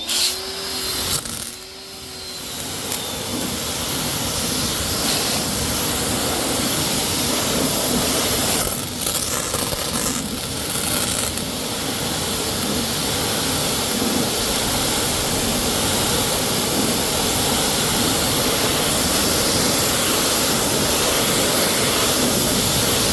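A cheap 1900 psi pressure washer runs continuously in a loud, steady whine that dips briefly near the start and then holds alone without speech.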